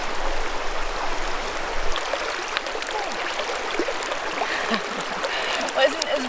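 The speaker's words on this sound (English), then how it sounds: "Right, made it to the river, so now I just have to cross that." River water streams and splashes steadily during a winter crossing in the Cairngorms, a broad continuous rush with scattered sharper splashes close by, with no clear talking over it.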